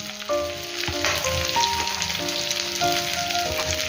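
Stuffed brinjals frying in masala in a pan over low flame give a steady, close sizzle and crackle with faint stirring; no one speaks.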